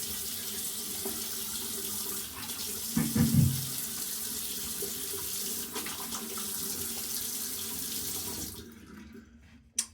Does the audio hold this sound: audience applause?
no